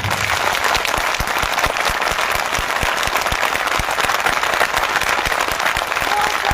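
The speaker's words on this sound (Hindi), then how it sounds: "सम्राट अशोक की स्मृति में उनके लिए एक जोरदार ताली बजा दें।" A large audience gives loud, sustained applause in honor of Emperor Ashoka at the Latiya festival, a dense, steady wash of many hands clapping with no break from start to finish.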